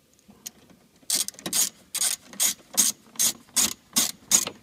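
A hand ratchet tightens bolts on a truck during an HID headlight install, giving a steady run of about eight loud, close rasping clicks in even strokes after a faint start, with no talking.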